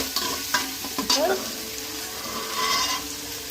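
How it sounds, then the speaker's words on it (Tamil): Onions and three green chillies sautéing in a pan for country chicken biryani, a soft close sizzle broken by a few stirring scrapes, fairly quiet, with no talk over it. "அது கூட 3 பச்சை மிளகா நல்லா வதங்கட்டும்."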